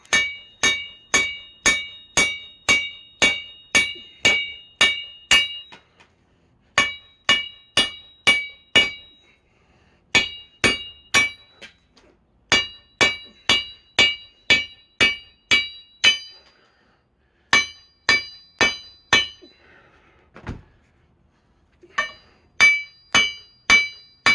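A hammer strikes wheel studs out of a 1941–1951 Ford F1 rat rod axle, ringing metallic blows in steady rapid bursts of about eight to ten hits, separated by short pauses, loud and close with no talking.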